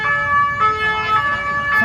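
A wailing emergency siren rises and falls steadily over low street rumble in the Marais, Paris, fairly close and loud, with no voices.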